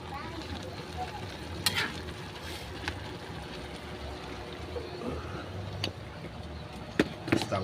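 Bean sprouts and chicken being stirred in a pan, with a steady background sizzle and occasional sharp scrapes and clinks of the utensil against the pan at close range, no talking.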